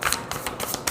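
Tarot cards are shuffled close up, a dense riffling rustle with quick papery flutters and soft slaps throughout a short burst.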